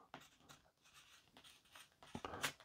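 An inkless pen writing on cardboard, pressed hard, gives a string of faint, close scratchy strokes in uneven bursts with short pauses.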